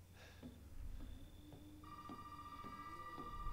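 An in-game telephone rings in Resident Evil 7 with repeated electronic tones, faint and somewhat distant over a low ambient hum, with light clicks and ticks scattered through.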